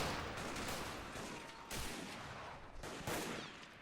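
WW1 machine gun fire in a video game fort siege: dense, loud bursts of rapid gunfire overlap with scattered shots, sharp volleys punctuating a constant battle din.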